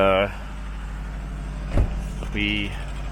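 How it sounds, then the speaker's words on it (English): Idling Subaru Outback engine warming up on a cold day outside a shop, a steady low rumble running throughout, with a brief thump near the middle and a person talking at the start and end. "just warming up the Outback, getting ready to go home"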